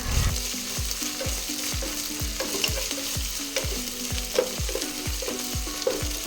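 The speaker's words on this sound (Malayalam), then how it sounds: "ഇനി ഇതിലേക്ക് 1 ടേബിൾ സ്പൂൺ ഇഞ്ചി വെളുത്തുള്ളി പേസ്റ്റും കൂടി ചേർത്ത് ഒന്ന് മിക്സ് ചെയ്തെടുക്കാം." Ginger garlic paste and whole spices sizzle steadily in a hot pan for chicken varattiyathu while a utensil stirs in a regular repeating rhythm, close and clear, with no talking.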